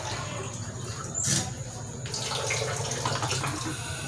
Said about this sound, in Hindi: अब मैंने पानी जो है ना इतना डाल लेना है कि इसके अंदर जो है ना